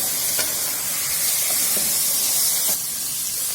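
Mutton roasting in a pan for Kashmiri rogan josh gives a steady, close sizzle and hiss throughout, with a few faint stirring scrapes and no talking.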